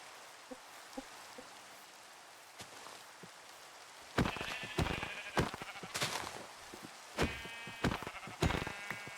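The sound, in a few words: sheep bleating in the video game Minecraft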